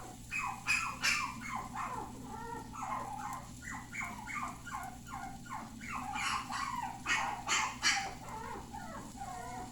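A dog barks and yips again and again, close and loud, in quick yappy bursts with short gaps across the whole stretch, no voices over it.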